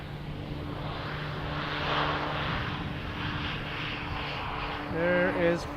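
A Flair Airlines plane from Vancouver on final approach, flight 8822, producing a steady, moderately loud engine roar with a low drone that swells slightly near the end while it passes by.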